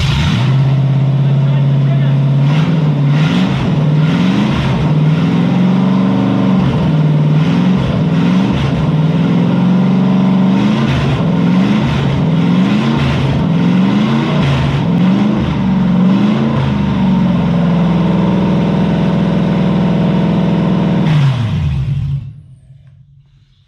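A Toyota 1UZ V8 engine in a Lamborghini kit car runs loud and close, repeatedly revved in rising and falling bursts over a deep rumble, then shut off abruptly near the end.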